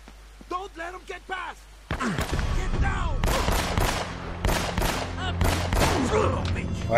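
Gunfire in Uncharted: Drake's Fortune erupts in rapid, repeated bursts, loud and close, with a voice talking in between the shots.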